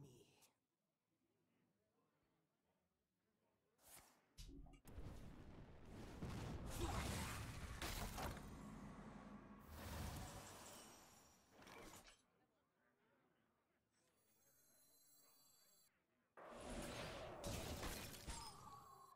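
Icy shattering bursts and whooshes in Hearthstone as Shiva's frost effect breaks apart: several loud crackling blasts separated by quieter stretches, with chiming tones and game voice lines mixed in.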